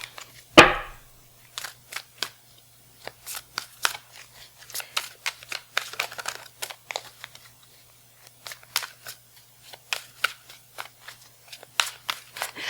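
Tarot cards being shuffled by hand, a series of crisp papery riffles and taps in irregular bursts, close and clear against a quiet background.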